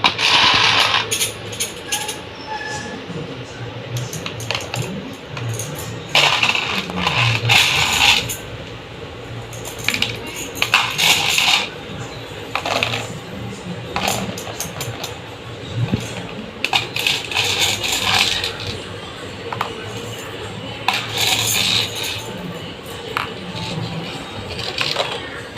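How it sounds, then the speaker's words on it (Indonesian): Mung beans rattling and clinking into glasses in repeated spoonful pours, with bursts of tapping and scraping between quieter pauses. "masukkan kira-kira 1 sendok biji kacang hijau ke dalam gelas-gelas tersebut"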